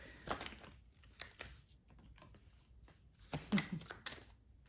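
Tarot cards are shuffled by hand at close range in several short riffling bursts with quiet gaps in between, the papery slaps growing busiest and loudest near the end.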